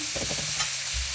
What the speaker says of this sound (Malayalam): പച്ചമുളകും കൊച്ചുള്ളി സവാളയും ഇട്ട് നല്ലതുപോലെ വഴറ്റുക.